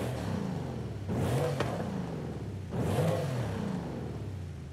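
Car engine fitted with a sport exhaust in Forza Horizon 5, revving hard twice in close succession, each rev climbing and falling with a raspy, loud note over a steady idle rumble.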